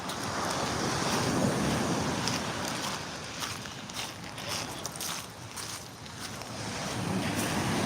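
Ocean surf rolls in with seaweed churning in the water, a loud continuous wash of breaking waves with wind buffeting the microphone throughout, no voices.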